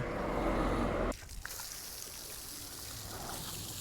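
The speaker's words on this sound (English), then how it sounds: "So let's throw some water on it right here." Steady broadband rush of water poured onto a car wheel with carbon ceramic brakes for about a second, then cutting off, leaving faint dripping and low background noise.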